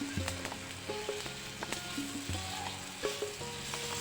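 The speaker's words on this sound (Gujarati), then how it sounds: "સફેદ તલ બધે ફૂટવા માંડ્યા છે" White sesame seeds crackle and pop in hot oil, with a continuous soft sizzle and scattered sharp pops as they spread across the pan for a quick bottle gourd snack, close and quiet.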